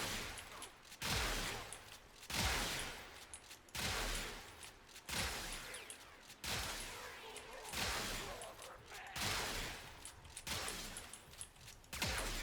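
Repeated heavy blasts from the Tenet Arca Plasmor plasma shotgun in the shooter game Warframe, fired in a steady rhythm about once every 1.5 seconds, each a loud burst with a crackling decay.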